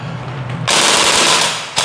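A Stage 3 DSG APS Noveske gel blaster fires on full auto: after a brief quiet moment, a loud, sustained rapid-fire burst runs for about a second, and a second burst begins right at the end.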